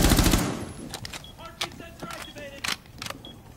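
Rainbow Six Siege gunfire opens with a loud burst of rapid automatic shots, followed by scattered fainter single shots and in-game effects over the rest of the moment.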